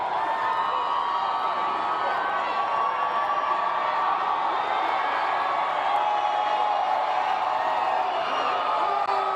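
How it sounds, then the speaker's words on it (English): A large outdoor crowd at the Denver Nuggets' 2023 championship parade cheers and whoops continuously, a dense roar of many voices with scattered shouts, steady and loud throughout. "Can you hear the crowd?"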